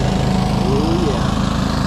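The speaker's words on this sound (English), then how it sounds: "we got crazy lady cutting the grass here" A lawn mower cutting grass close by drones steadily, a loud continuous engine hum with a faint voice over it.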